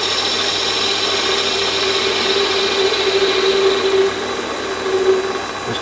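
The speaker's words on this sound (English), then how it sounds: "So I'll just take a little scratch across the face." A Warco metal lathe takes a light facing scratch cut across a workpiece: a steady, close mechanical whir with a thin sustained tone, running alone without talk and swelling slightly toward the end.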